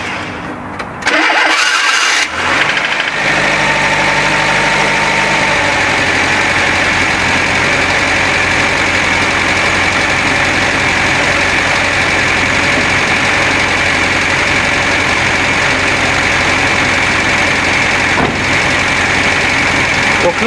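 A farm engine running on agricultural oil cranks and catches, then settles into a steady, rough idle that runs on evenly without pause.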